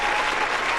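Steady applause from a studio crowd during a live radio show, a dense, even wash of clapping held at one level from start to finish with no talk over it.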